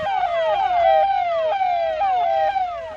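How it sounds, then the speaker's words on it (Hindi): A wailing siren on a forest department vehicle cycles rapidly and steadily at close range, a loud electronic whoop repeating about twice per second. "वन विभाग की गाड़ियां सायरन बजाते हुए ऐलान करने लगती हैं।"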